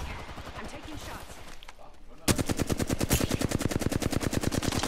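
Rapid automatic gunfire from an Apex Legends match bursts out partway through in a loud, evenly spaced volley, after quieter game noise with a voice talking underneath.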